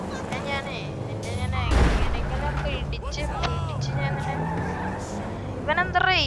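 A car in the GTA 5 video game drives and skids, with revving engine, a sharp burst of tire noise and impact-like bangs, while someone talks over the game sounds throughout.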